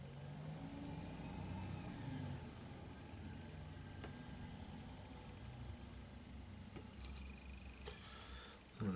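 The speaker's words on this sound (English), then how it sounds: "The lorry's going up and down outside by the sounds of it." A lorry drives up and down outside, heard through a closed window as a steady, muffled engine rumble with a little rise in revs. It stays faint and distant, with no talking over it.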